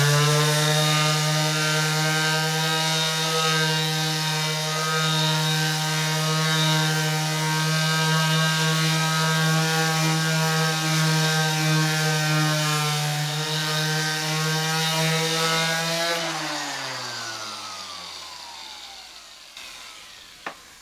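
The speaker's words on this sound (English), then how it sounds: "to a 120 grit with a random orbit sander" A random orbit sander with 120 grit paper works a wooden cutting board, giving a loud steady motor hum with rich harmonics that runs for about sixteen seconds, then winds down as the motor slows and fades out.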